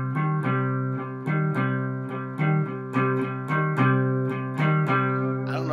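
Electric guitar with light distortion plays a repeating strummed riff from a cover version of a song, with sharp chord attacks every half second or so ringing out, loud and close, with no talk.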